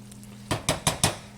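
Sausage and tomato gravy stirred in a cooking pan, heard as four sharp, evenly spaced clanks of a utensil against the pan over a low steady hum, with no talking.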